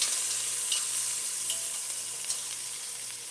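Steak for Spanish beef stew stirred in a pot, an even close sizzle broken by a few soft utensil scrapes, no voices.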